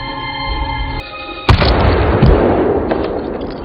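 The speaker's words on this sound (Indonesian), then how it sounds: "ternyata Vincent terkena tembakan lagi" In the video game Prey, a single loud gunshot cracks out sharply, followed by a heavy rumbling boom that slowly fades, after a steady electronic drone.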